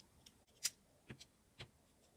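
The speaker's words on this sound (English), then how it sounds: "Take my fancy scissors and cut." Fancy decorative scissors cut paper for a mandala craft, making three or four quiet, separate snips spaced about half a second apart in a silent room.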